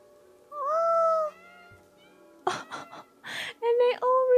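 Cats in the video game Stray answer with a series of clear, close meows, one drawn-out call and then several shorter ones in quick succession. Someone talks briefly between them.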